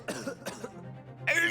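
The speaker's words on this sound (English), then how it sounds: "It's the same sound effect when he coughs." A character in The Great Ace Attorney: Chronicles gives a short game sound-effect cough, two sharp bursts followed by a rougher throat-clearing rasp, close and clear with no speech over it.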